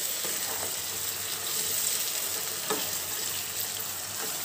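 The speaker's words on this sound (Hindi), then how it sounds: "अच्छे से हम इन्हें फ्राई कर लेंगे।" Marinated chicken fries for biryani in a pot with a steady, fairly quiet sizzle, broken by occasional clinks and scrapes as it is stirred.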